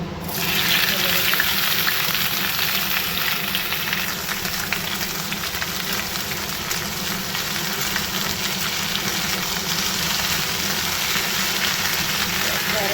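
Hot oil in a kadai, ready for frying, gives a loud continuous hiss and crackle close by, with a faint voice in the background.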